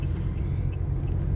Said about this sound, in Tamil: பாருங்கள் எவ்வளோ டிராஃபிக், எவ்வளோ தூரத்துக்கு கார் நிற்கிது.